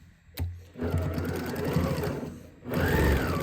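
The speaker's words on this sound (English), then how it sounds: "So I'm gonna sew from this side so I can see the stitching that I put in there for the handle." A sewing machine stitches a dopp kit toiletries bag through the handle seam, whirring in two steady runs separated by a brief pause, loud and close with no talk.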